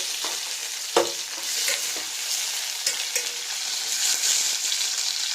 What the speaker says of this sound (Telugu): ఇలా ఆయిల్ హీట్ అయిన తర్వాత టమాటా ముక్కలను వేసి